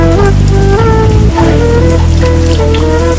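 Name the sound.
heavy rain falling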